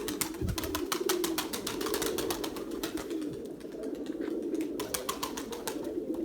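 A pigeon coos in a low, steady murmur near a tumbler-pigeon loft, with rapid sharp clicks and flutters running through it and no voices.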